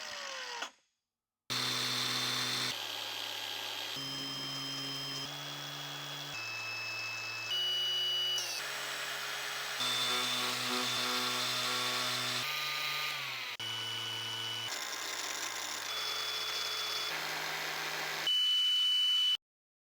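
Brushless angle grinders run one after another, each giving a steady whine in its own pitch with short breaks between them, heard close and with no talk.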